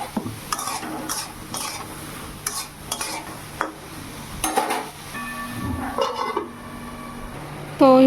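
Ridge gourd with turmeric and spices frying in a pan while a utensil stirs it, making repeated scraping and clinking strokes over a soft sizzle, with a brief high whine near the end.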